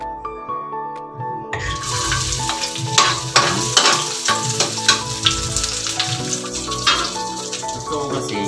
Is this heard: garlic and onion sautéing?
yes